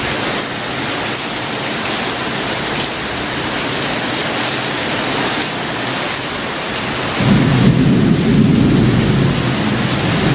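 Heavy rain pours steadily and densely with a rumbling, thundery low roar swelling louder near the end, no voices heard.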